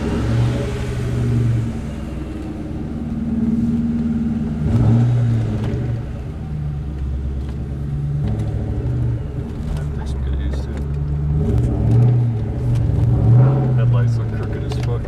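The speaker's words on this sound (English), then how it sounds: "Listen to that charger, boy." A 96 Mustang SVT Cobra fitted with a Kenne Bell supercharger revs repeatedly up close, its loud engine rumble rising and falling with a whining tone, while people talk over it.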